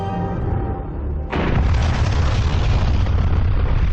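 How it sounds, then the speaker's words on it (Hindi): A low rumble suddenly erupts into a massive, roaring explosion from the largest bomb ever detonated, by the Soviet Union, that keeps thundering loudly and continuously without fading. "सोवियत यूनियन ने इंसान के बनाए अब तक के सबसे बड़े बम में विस्फोट किया था।"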